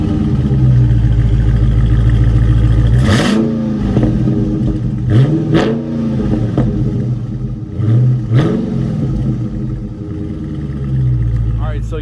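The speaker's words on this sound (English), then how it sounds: "I'm gonna cut to a clip of startup and rep for this car" A car with a 1,000-horsepower build starts up and revs repeatedly, loud and close, with several sharp throttle blips rising and falling over a steady idle, and voices nearby.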